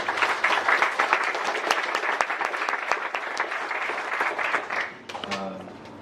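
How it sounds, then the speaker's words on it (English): Audience at a JavaScript meetup applauding a speaker, sustained dense clapping for about five seconds that fades out as a voice begins. "Can you please continue with your applause and put your hands together for Charles?"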